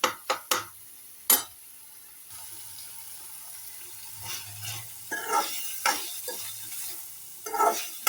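Turmeric and other ingredients go into hot oil for a mint and coconut chutney: scattered sharp clicks and spoon clatter over a soft, low sizzle, with a few louder stirring bursts near the end.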